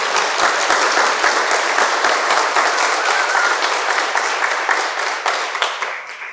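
Sustained applause from an audience at a State of the City address, dense and even clapping throughout, gradually thinning toward the end, with no talk.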